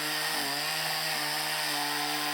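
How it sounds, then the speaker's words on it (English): A chainsaw carves a raw tree trunk, its engine droning loud and steady throughout, with a brief pitch dip as the blade bites into the wood. "Chainsaw carving is the modern incarnation of an ancient art"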